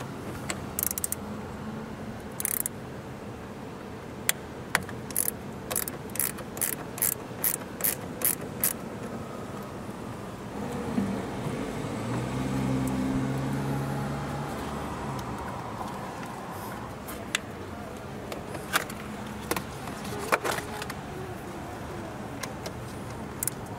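Clicks and metallic ratcheting come from work on the 12-volt battery terminals of a non-hybrid Toyota RAV4, as the terminals are loosened and disconnected. A run of quick rhythmic ticks is followed by scattered clanks, all close.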